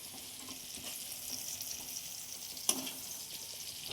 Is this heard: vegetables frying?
yes